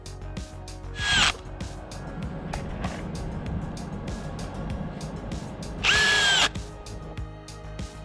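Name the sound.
Makita and DeWALT cordless screwdrivers driving screws, sped up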